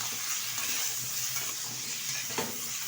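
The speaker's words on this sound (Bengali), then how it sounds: "ফুলকপি আলুটা একটু ভালোভাবে নেড়ে চেড়ে নিয়েছি তেলের সাথে।" Cauliflower and potato pieces fry in hot oil with a steady close sizzle while a utensil stirs them, adding soft scraping and clinks, including one sharper knock near the end.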